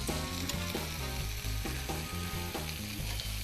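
Flour-dusted calamari fries in a pan with garlic, giving a steady sizzle under a rhythmic pattern of tonal sounds that repeat throughout.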